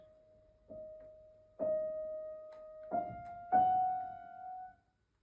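Piano notes repeat at the same pitch, struck four or five times with gaps, the last one rising slightly and ringing out before silence.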